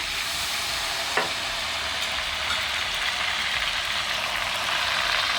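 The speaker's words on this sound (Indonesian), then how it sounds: "Nah ini kan bunyi krecek itu berarti masih mengandung air ya." Steady, dense sizzling and crackling of cow skin crackers frying in hot oil, still holding moisture, close and continuous, with a faint clink early on and no voices.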